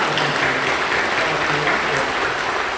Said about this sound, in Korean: 우리 격려하고 축복하며 박수해 주실 거고요.